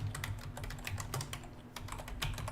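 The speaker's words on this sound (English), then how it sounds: "So I can actually type in my name." Someone types a name into a property search on a computer keyboard, producing close, quick bursts of clicking keystrokes in an uneven rhythm, with no voices.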